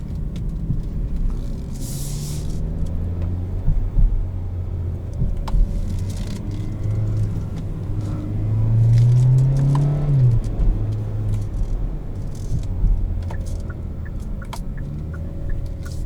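Engine of a 2022 Kia Soul Turbo in manual mode, rumbling steadily from inside the cabin, then rising in a brief blip near the middle as it rev-matches a downshift before settling back to a steady drone.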